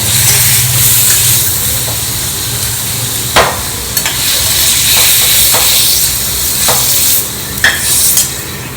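Paneer frying lightly in hot oil gives a loud, steady close sizzle, with a few scraping stirs of a utensil against the pan.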